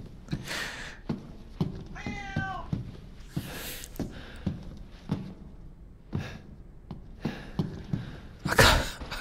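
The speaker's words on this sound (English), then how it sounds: "Stop meowing." A house cat meows indoors, a clear rising-falling call near the middle, amid clicks and thumps from gameplay and room noise.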